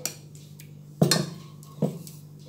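Metal pressure cooker handled in a kitchen while boiled greens are put into it, giving three sharp metallic clanks and knocks at close range, with a faint steady hum beneath.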